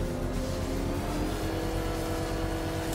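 The Batmobile engine in Batman Arkham Knight revs in a steady, loud, throaty roar with a deep droning hum and a slight rising pitch, sustained without pause.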